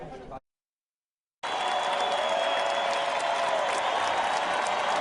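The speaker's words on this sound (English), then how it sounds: "He received the loudest, most enthusiastic ovation of the entire Republican convention to that point." A Republican convention crowd gives Ted Cruz a loud, sustained ovation, a broad wash of applause and roaring that swells after a brief cut to silence and holds steady to the end.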